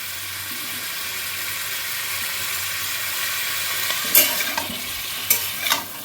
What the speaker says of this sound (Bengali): এবার আমি একটু আদা বাটা দিয়ে দিচ্ছি